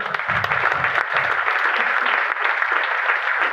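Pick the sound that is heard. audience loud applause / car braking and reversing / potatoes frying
audience loud applause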